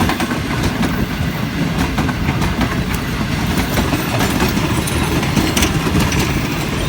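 A passenger train rolls through Tando Adam railway station, loud and close, with a steady heavy rumble and rhythmic clickety-clack of wagons over rail joints throughout.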